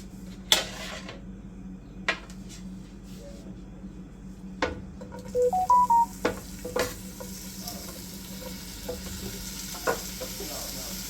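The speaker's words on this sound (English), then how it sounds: "So now that I have everything cut up, I'm gonna put it in the pan." Chopped garlic and other pasta ingredients go into a hot pan and sizzle steadily under intermittent sharp clinks and scrapes of a utensil stirring against the pan, with a brief higher ringing in the middle.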